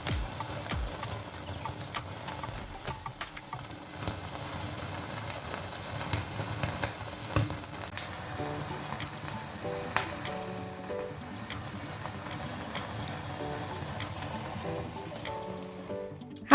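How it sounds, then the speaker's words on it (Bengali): Full chicken tandoori legs sizzle and crackle steadily on the grill, a continuous frying hiss with small pops throughout, close and moderately quiet, no talking. "এবার গ্রিল করে নিচ্ছি।"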